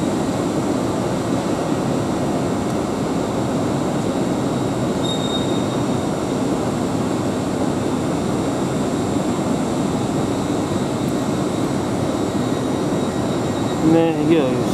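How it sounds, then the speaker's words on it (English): A Hull Trains Class 802 passenger train departs London King's Cross, rumbling steadily for a long stretch, with rolling wheel noise and a faint metallic squeal, ending in a brief clatter. "There he goes, Hull train starts."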